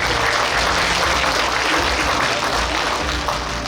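Audience applause at a book launch for a former politician in Suncheon. Dense, loud clapping fills the room and holds steady throughout with no break.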